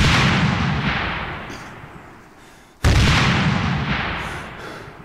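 Two frag grenade blasts from the military shooter Arma 3, heard alone: a heavy, close boom with a long rumbling decay, then a second loud blast a few seconds later that rolls away slowly.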